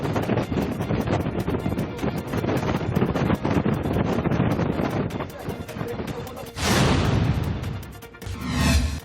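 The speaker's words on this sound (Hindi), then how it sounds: "यहां बहुत तेज हवाएं चली" Strong gusting winds of Cyclone Nivar in Tamil Nadu, a loud continuous rushing roar buffeting the microphone, with sharper gusts surging near the end while a voice speaks over it.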